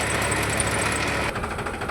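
A farm tractor's engine runs close by, a steady loud rumbling drone that roughens and shifts slightly partway through, with no voices.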